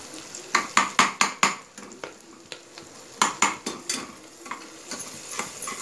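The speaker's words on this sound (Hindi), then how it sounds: "प्याज अभी भी हमारे थोड़े से सॉफ्ट बस हुए हैं, इसे हम हल्का सा और भून लेते हैं" Softened onions frying in a pan under a sizzling bed, punctuated by a quick series of sharp metal scrapes and knocks as a spoon stirs against the pan, then a later cluster of strokes.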